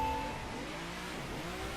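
Engine roar and tire noise from a Nissan burning its tires in the racing game The Crew, a loud, steady drone holding level throughout with no voices.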